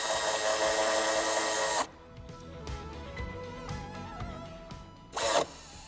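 A power tool tightens a bolt while a tow hitch is fitted to a BMW i4, two loud, close bursts of high whirring separated by quieter clinks and handling noises.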